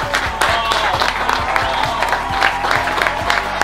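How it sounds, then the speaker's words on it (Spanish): A group of friends gives a hearty round of applause for a wing restaurant after a chicken wing eating challenge, close, sharp individual claps mixed with cheering in a lively room. "vamos a darle un fuerte aplauso a la Casa de las Alotas"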